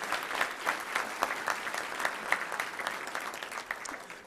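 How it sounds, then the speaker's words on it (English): Applause for Hunter Yurachek at a Little Rock Touchdown Club luncheon, a moderate crowd clapping steadily with sharp individual claps scattered through, fairly quiet and even from start to finish. "Let's give a round of applause to him."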